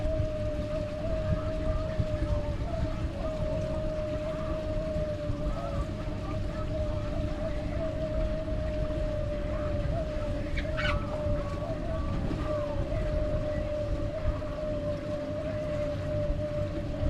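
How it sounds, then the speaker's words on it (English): Bass boat speeding across a lake, a steady distant engine drone with a sustained tone that holds throughout over a low outdoor rumble. "that boat's hauling ass across the lake"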